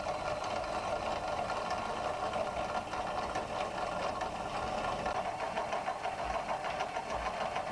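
A hole saw on a drill cuts through the steel rear frame rail of a GMT800 Chevrolet Tahoe, giving a constant whirring grind that stays even throughout.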